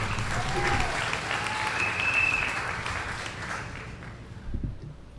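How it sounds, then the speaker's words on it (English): Crowd at an outdoor political gathering in St Joseph, Trinidad, clapping in a moderate, sustained wash of applause that tapers off toward the end, with faint background noise and a few low thumps. "Give him a round of applause."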